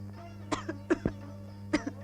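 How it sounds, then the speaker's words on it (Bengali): A person coughs in a few short, faint bursts against a low steady hum in an indoor film scene. "কাশছো কেন?"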